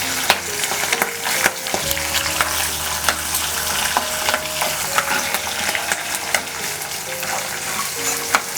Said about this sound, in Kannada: ಒಂದು 2 ಸಲ ಬಾಡಿಸ್ಕೊಂಡ್ಮೇಲೆ ಹೆಚ್ಚಿಟ್ಕೊಂಡಿದ್ದ ಈರುಳ್ಳಿ ಹಾಕ್ಕೊಳ್ತಾ ಇದ್ದೀನಿ.